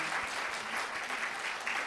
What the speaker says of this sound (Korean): 이사직을 열과 정성으로 수행해 주신 네 분께 감사의 박수 다시 한번 쳐주시면은 했으면 좋겠습니다